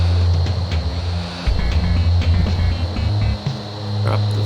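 A steady, loud drone of an aircraft engine in the Fighters Anthology flight sim, with a deep hum that dips and swells slightly as the throttle shifts, no voices over it.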